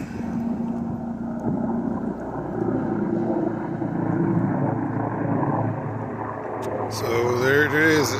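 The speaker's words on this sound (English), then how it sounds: "as a helicopter goes flying by" A helicopter's rotor drone rumbles steadily across a lawn as it flies by, rising toward the end, while someone talks over it.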